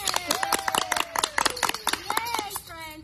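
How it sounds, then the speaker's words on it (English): A group of young children at a nursery clap their hands in quick, regular beats while a sung melody carries over the claps. "Clap your hands."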